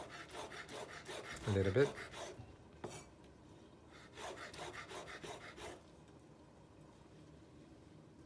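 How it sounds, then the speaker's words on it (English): A knife cuts vegetables into thin slices on a cutting board, several short scraping, rasping strokes in quick bursts, fairly quiet and close, with a brief spoken phrase near the start. "I like to cut them in little thin slices, so everybody gets"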